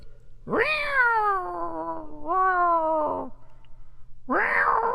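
A cat lets out long, drawn-out meows, two joined wails followed by another, loud and close.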